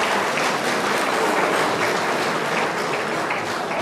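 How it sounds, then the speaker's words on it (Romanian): Audience at a local Romanian community event gives continuous applause, a dense, moderately loud wash of many hands clapping with no break or speech over it. "Iar pe dumneavoastră vreau să le aplaudați"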